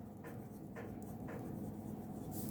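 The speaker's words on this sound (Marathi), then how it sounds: "इथे मी स्टेटमेंट लिहितो" A pen writes a math statement by hand on paper, making faint, rhythmic scratching strokes over a low steady background hum.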